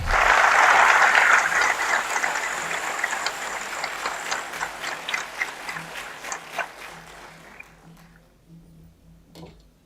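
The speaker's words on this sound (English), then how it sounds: "please give a huge round of applause for sir" Audience at a Sri Balaji University Pune event gives a round of applause for a speaker taking the stage: loud, dense clapping that thins into scattered individual claps and fades out over about ten seconds.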